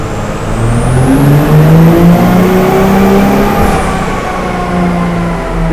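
A diesel truck engine on a dyno runs a sustained pull, very loud and close, its pitch rising and holding high before easing back down.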